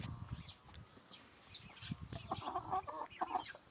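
Three-month-old Master Grey broiler chickens cluck softly and intermittently in a farm enclosure, faint and somewhat distant, with low rustling and background noise.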